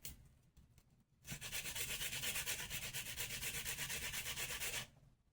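An onion rubbed against a grater in a kitchen, a continuous rasping scrape lasting about three and a half seconds, close and fairly quiet, with no talking.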